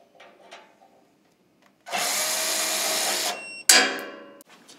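A power driver with a 5/16 socket backs out hex sheet metal screws on a Weil-McLain SlimFit boiler casing. It gives a loud, sustained whirr of about a second and a half, then a second shorter burst that tapers off.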